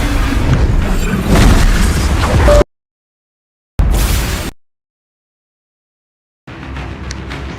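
Confringo blasting-spell explosions in Hogwarts Legacy: loud booming bursts, the first long and rumbling, a second shorter blast after a gap, then a softer rumble returning after silence.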